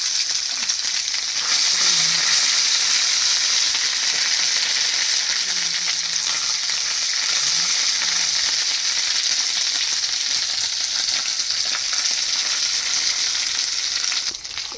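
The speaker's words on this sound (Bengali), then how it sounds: "দেখো আদাটা কষানো হয়ে গেছে" Ginger paste and salt frying in a pan give a loud, continuous close sizzle that holds steady for the whole stretch, with faint scraping of stirring underneath and no talk.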